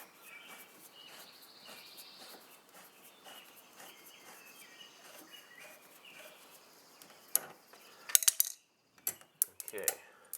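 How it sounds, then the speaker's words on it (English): A 10mm nut being worked off a brake pedal bolt on a 2019 Can-Am, with faint metallic ticking and ratcheting clicks building into a cluster of sharp, close clinks near the end. "we're gonna go ahead and take this nut out."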